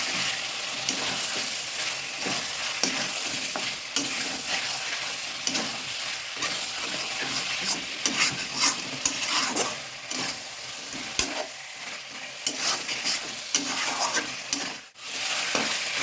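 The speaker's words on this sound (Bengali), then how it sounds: "এই পালং আর কাঁচা লঙ্কা পেস্ট করাটা এটা দিয়ে আবার একটু কষাবো" Chicken stir-fried with spinach and green chili paste, sizzling steadily in a pan with irregular scraping and stirring throughout, close and fairly loud, no talking.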